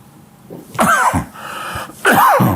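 Two harsh coughs ring out close by, the first near the start and the second toward the end, with quieter breathing between them.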